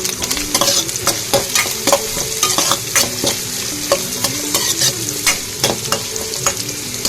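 Crushed garlic with curry leaves fries in hot oil for Karnataka-style tempered rice, a steady sizzle broken by frequent clattering stirs of a spoon against the pan.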